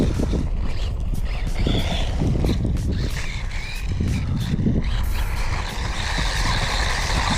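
A Haiboxing 3100a brushless 4x4 RC desert truck driving on grass, its motor whining and gravelly wheel noise surging and easing, close and fairly loud, with wind-like rustle throughout.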